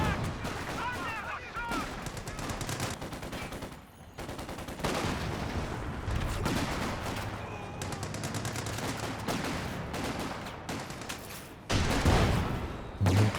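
Gunfire and grenade blasts from a Company of Heroes 2 multiplayer battle crackle in dense bursts, with sharp booms near the end, under a commentator's continuous talk.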